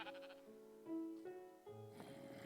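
Sheep bleating at a rural woodland cabin: two or three drawn-out, wavering bleats in a row, close and fairly loud, one after another with no talking.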